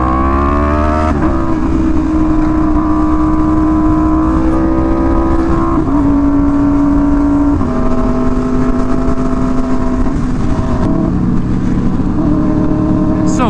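Several motorcycles on a group ride near a beach rev continuously and loudly, engines rising and falling in pitch together in a steady, close roar.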